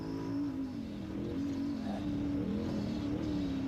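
From inside the cab of an off-road race truck during the San Felipe 250 desert race, a steady engine drone hums with slight wavering of pitch, continuous and fairly loud with no talk.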